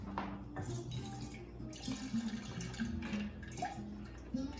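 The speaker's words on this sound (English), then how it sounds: "I'm going to start off by dumping out our water from the glass." Water splashes and gurgles as it is poured out of a chilled cocktail glass over a sink while making a Gin Gimlet, a continuous running pour with faint clinks.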